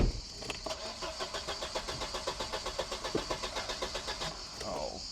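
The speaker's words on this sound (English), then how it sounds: "my car coughed into life" A car engine cranking and sputtering into life on a European road trip, a steady fast chugging rhythm of the starter and engine firing, close and fairly loud, settling toward idle at the end.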